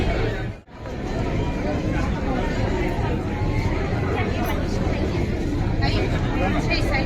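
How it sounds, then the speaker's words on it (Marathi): A dense crowd fills Xperia Mall in Palava, Dombivli with a constant babble of many voices and footsteps, loud and close, with no single voice standing out. "एवढी गर्दी आहे इकडे, खूपच गर्दी आहे"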